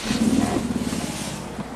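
A 2008 Infiniti G37S engine runs close by at a steady, rough idle, a low throbbing hum with slight wavering, heard alone without talk.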